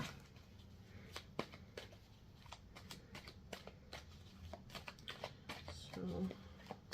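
Tarot cards are shuffled close by in soft, quick riffling bursts, with small scattered taps between them against a quiet background.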